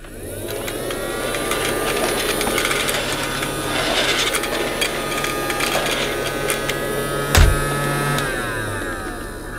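Casdon's toy Dyson DC24 vacuum cleaner runs its suction motor with a continuous, close buzzing drone, with small clicks and rattles of plastic parts and one sharp knock partway through.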